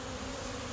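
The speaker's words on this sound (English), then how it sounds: "I got some anxious bees here" A brief, close burst of honey bees buzzing at an opened hive in Portland, Oregon, agitated after a board was pulled, a steady droning hum with no voices.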